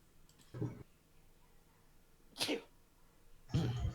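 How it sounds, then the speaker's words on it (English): Three short, separate bursts, each a sharp sneeze or sneeze-like huff, close by in an otherwise quiet room. "Sneeze interlude."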